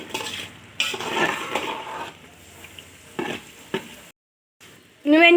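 Chicken curry gravy being stirred in a pan on a home stove, a spoon scraping and clinking against the metal with a soft sizzle underneath, in uneven strokes, then a brief pause before a louder burst.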